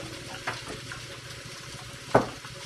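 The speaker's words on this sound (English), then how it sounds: "I'm going to rinse my spoon off because I don't want to put chili sauce in my jelly." A spoon rinsed under a running kitchen tap after scooping chili sauce: a steady, close wash of flowing water with two brief metallic clinks against the sink.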